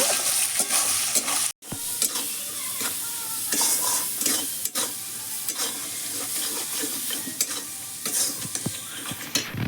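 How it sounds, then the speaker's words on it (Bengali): Onions sizzle steadily in a pan while a spatula stirs and scrapes repeatedly, close by, with a brief pause early on. "পেঁয়াজটা একটু ভাজা ভাজা করে নেব।"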